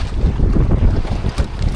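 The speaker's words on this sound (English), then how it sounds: "it is very windy out here" Strong gusting wind buffets the microphone at a boat ramp where a fishing boat is being loaded onto its trailer, a loud, rough, continuous roar with no talking.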